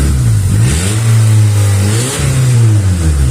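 A Honda Civic 1.7 engine with its exhaust disconnected revs loudly up and down twice, the raw, close roar climbing in pitch and falling back between blips.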